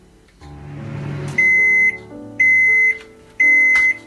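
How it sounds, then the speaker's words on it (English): A home microwave oven hums steadily while cooking, then lets out three loud, evenly spaced long beeps about a second apart, close up with no talking. "So we put this again into the microwave"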